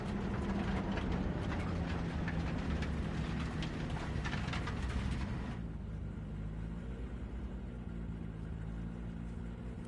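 A train in Cyberpunk 2077 rolls past with a constant, dense mechanical rumble and rattling clatter that drops abruptly in intensity halfway through, leaving a softer steady drone.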